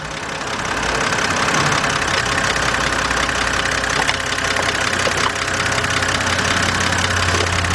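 Steady running engine of a 2007 BMW 328xi idling close by, with a faint rapid ticking riding on the continuous low hum throughout.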